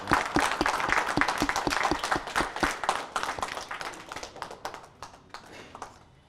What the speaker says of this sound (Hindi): पूरे लगातार परिवार की तरफ से हम तालियां बजाकर आपका आभार प्रकट करना चाहते हैं।